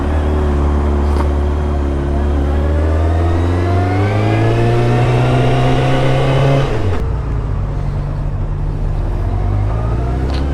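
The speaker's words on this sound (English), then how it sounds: "The engine is super smooth." Honda CBR600F2 motorcycle engine revving, rising smoothly in pitch over several seconds to a loud peak, then dropping abruptly back to a steady idle, close and unaccompanied by talk.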